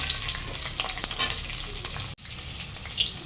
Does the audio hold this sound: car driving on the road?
no